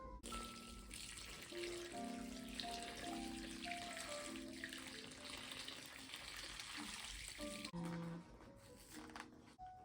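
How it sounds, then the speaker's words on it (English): Water pours steadily into a bowl for a loc detox soak with baking soda and apple cider vinegar, a faint, continuous splashing trickle that is briefly interrupted near the end. "We're gonna pour the water in there and get this reaction started."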